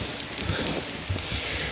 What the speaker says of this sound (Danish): Der kommer selvfølgelig regn på linsen.